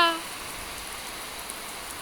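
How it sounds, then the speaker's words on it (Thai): Steady heavy rain hisses down in a continuous wash during a storm in Laos, with a brief tonal blip at the very start. "ฝนก็ตกแค่ตกว่า"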